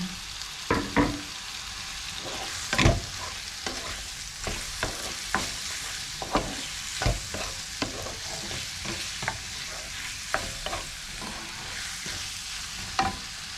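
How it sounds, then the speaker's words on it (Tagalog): Shrimp and tomato sauté in a hot pan, giving a steady sizzle and frying hiss broken by sharp clacks and scrapes of stirring at irregular intervals, with no talking. "Nagisa na natin yung kamatis. Lagay natin yung hipon."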